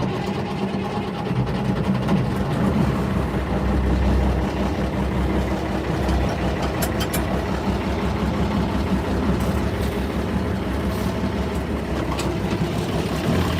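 A farm engine turns over and settles into a steady, loud idle, a continuous mechanical drone that fills the whole stretch without pause.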